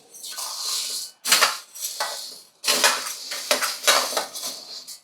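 A spatula scrapes and clatters against a metal pan while urad dal and rice dry-roast on low heat for sunnundalu, in several loud, close bursts separated by short pauses.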